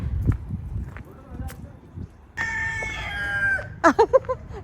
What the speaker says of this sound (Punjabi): ਕੁੱਕੜ ਬੋਲਦਾ